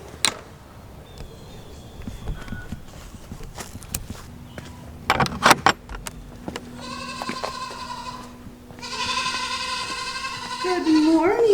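Goats bleat inside a homestead barn on a hot day, with long wavering cries bursting out in the second half, preceded by footsteps, clunks and handling noises.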